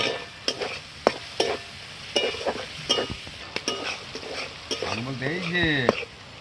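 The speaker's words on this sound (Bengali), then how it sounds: "তো মশলাটা কষা হয়ে গেছে" Ground cumin, coriander and red chili powder fry in hot oil in a pan, with a sharp spatula scraping and clacking in an irregular rhythm over a steady close sizzle.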